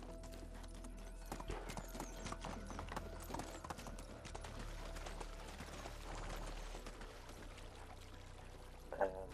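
Horse hooves clip-clop steadily in the video game Medieval Dynasty, a quick continuous rhythm of light hoof beats over a low ambient hum, with faint splashing and no talking.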